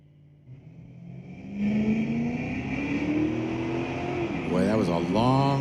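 Drag race cars, including a 1975 Dart, launching at Mission Raceway Park, a loud engine roar that rises and holds steady, with an announcer talking over it.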